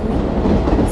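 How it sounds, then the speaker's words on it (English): Passenger express train in Indian Train Simulator rolls into a station platform, a loud, continuous low rumble of wheels and carriages. "12655, passenger express, is arriving at platform number 4"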